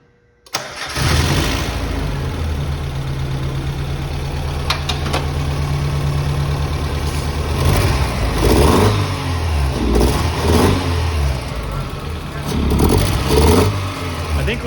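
A Mazda Miata engine, running on a missing cylinder with an exhaust leak, cranks and catches, then idles roughly with a steady low drone broken by several loud revs near the microphone; no one speaks.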